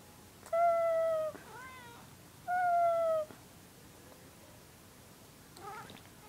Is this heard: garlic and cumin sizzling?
no